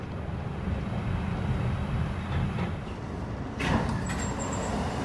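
A New York subway 2 train bound for Brooklyn College rumbles along the track with a steady low roar, and a sharper burst of rail noise and squeal comes in near the end.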